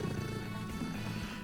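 A cat purrs loudly at close range, a continuous low rumbling drone that holds steady throughout with no voices over it.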